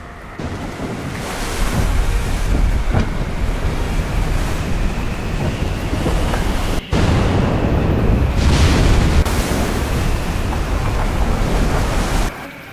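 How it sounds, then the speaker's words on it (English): Storm wind howls and heavy ocean waves surge around a sailing ship at sea, a loud continuous roar with swelling crashes and one abrupt break midway, no voices. "The sky darkens. The wind picks up. A storm is coming."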